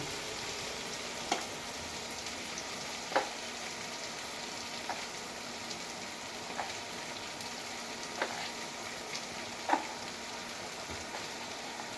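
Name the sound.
brinjal (eggplant) frying for pickle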